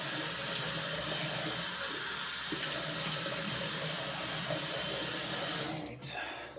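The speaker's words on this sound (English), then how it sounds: "now I'm just going to clean off my face, rinse that off." Tap water runs steadily and loudly into a sink as a face is rinsed after a neck shave with a Muhle R41 safety razor, a continuous broadband splashing that cuts off abruptly near the end.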